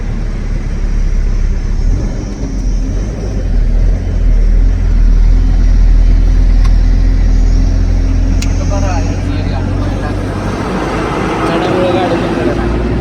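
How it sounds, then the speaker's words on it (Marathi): A loaded truck carrying raisins labours uphill on a ghat road, its engine giving a loud, continuous low drone and rumble that strains steadily, with someone talking over it. "गाडी लोडवर आली आता"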